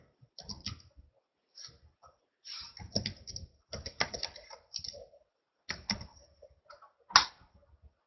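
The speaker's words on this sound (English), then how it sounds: "So I'm going to type in the SEO training group." Bursts of quick clicking keystrokes on a computer keyboard as a search is entered, close and fairly quiet, with short pauses between runs of typing.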